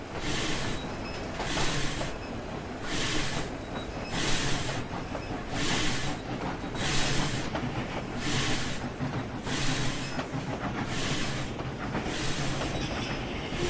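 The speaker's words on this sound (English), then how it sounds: "your air compressor's a bit loud" The air compressor of a steam locomotive in the Trainz train simulator pumps with a loud, regular rhythmic thumping and hissing, about one beat every second, steady throughout.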